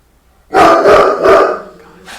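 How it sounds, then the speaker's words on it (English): A dog lets out several loud, close barks in quick succession after a quiet moment, then a softer bark near the end. "Why are you barking at me?"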